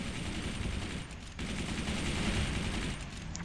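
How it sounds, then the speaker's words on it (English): Machine guns firing in the Forts strategy game, a continuous dense rattle of rapid shots with a brief dip before resuming at steady loudness. "Let's add another machine gun over here."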